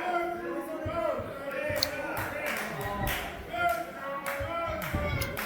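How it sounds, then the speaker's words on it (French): A wrestling crowd pounding and clapping in a hall, rhythmic thuds and claps repeating while a commentator talks over them. "La foule est embellée. Le monde, ça tape sa tête, ses murs en guise de soumission au Dieu Soleil."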